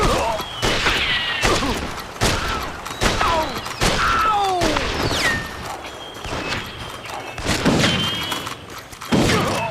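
Gunfire in the Western video game Red Dead Revolver: a run of loud, sharp shots in an uneven volley, some close together, with thuds and clanks between them and faint game sounds underneath.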